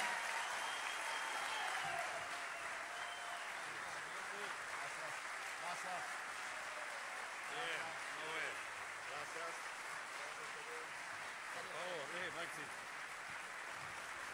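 Sustained audience applause at a payador gathering in Argentina, a dense, steady wash of clapping from a crowd lasting throughout, with a voice speaking over it at moments.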